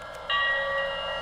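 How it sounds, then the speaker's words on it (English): Bell of a Lionel Legacy two-truck Shay model locomotive sounding alone, a bright ringing tone that starts abruptly and sustains, struck repeatedly in quick succession. "if I want to, I can hit it a bunch of times like that"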